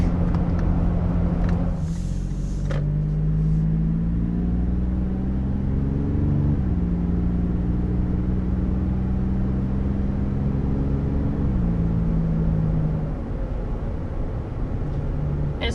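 A 2023 Toyota 4Runner 40th Anniversary edition with its 5-speed automatic gives a loud, close engine growl, low and rumbling, with pitch rising and falling as the revs climb and settle, no talking.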